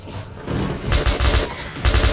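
Rapid automatic gunfire bursts in the first-person shooter Metro 2033 Redux, set in the Moscow metro, loud and close in two clusters after a quieter rumbling lead-in.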